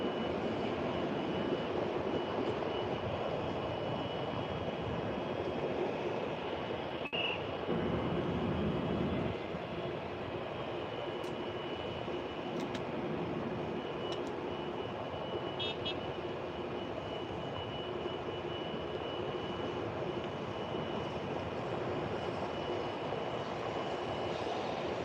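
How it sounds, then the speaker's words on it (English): A Southwest Airlines jet bound for El Paso, Texas, produces a continuous low engine roar that stays fairly distant and steady throughout, with no voices over it. "Southwest flight heading to El Paso, Texas."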